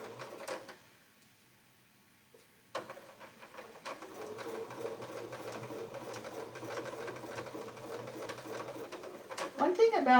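A sewing machine stitching quilting over previous quilting lines with a template, its steady rapid whirring running continuously after a short lull near the start, close and moderately loud, with faint background chirps.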